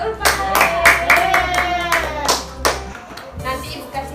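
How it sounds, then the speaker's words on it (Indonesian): Students in a sixth-grade classroom clap for a classmate in quick uneven bursts close by, with a voice heard briefly over the clapping before it fades. "Kasih aplaus buat Ulfa."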